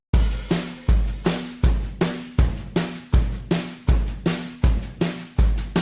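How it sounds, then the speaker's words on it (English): A punchy drum pattern with a steady, driving beat, each hit sharp and loud, repeating evenly inside a full music mix. "Let's listen to those with the drums."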